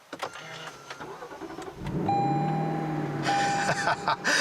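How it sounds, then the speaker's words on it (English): A 2018 Lexus LC500's 5-liter V8 starts by push button: a brief starter whir, then the engine catches and settles into a loud, steady idle close by, with a faint electronic chime tone running over it. "push this button here to fire up the engine"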